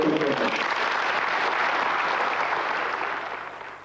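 An audience at a 1996 Lisbon political event applauds in a dense, steady burst of clapping that fades out toward the end.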